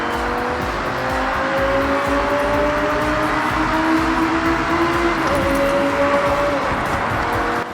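An Audi R8 V10 in the Forza Horizon 6 racing game drives hard, its engine note loud and continuous with rising and falling revs and gear changes, with no talking.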